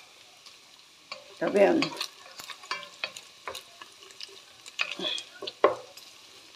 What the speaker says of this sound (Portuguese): Bem fritinho o bacon.